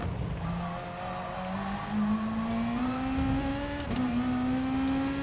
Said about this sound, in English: We're deliberately revving it out to try and get the fuel down.